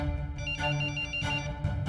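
A person imitates a mobile phone ringtone with their mouth, producing a steady, tonal electronic-like ring that pulses in a few bursts, loud and close, with no other talking.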